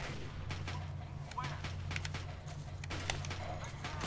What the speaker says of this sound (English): You shot his gun out of his hand.